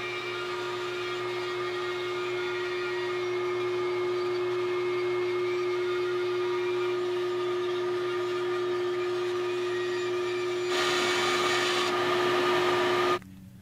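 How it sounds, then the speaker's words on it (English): A bandsaw runs continuously with a steady motor hum and tonal whine while cutting a template for an acoustic guitar mold. The sound grows louder and brighter near the end, then stops abruptly. "now we can take this over to the bandsaw and cut just again on the inside of that line"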